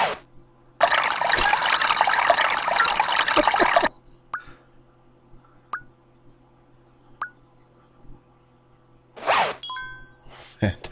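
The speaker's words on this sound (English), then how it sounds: "I'm pissing on the toilet" A stream of urine splashes steadily into a toilet in Leisure Suit Larry 6 for about three seconds, then stops. A few soft clicks follow, and a short watery gush comes near the end.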